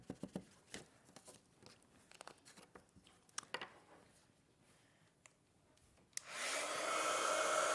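A heat tool blasts steadily from beneath a craft embossing piece, a loud continuous blowing roar that starts abruptly after scattered tapping and handling noises and holds to the end.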